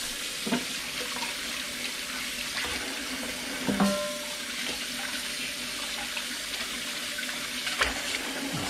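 Tap water runs steadily into a kitchen sink while pork spare ribs are washed by hand, a continuous close splashing hiss broken by a few brief clunks and knocks of handling, with no voices.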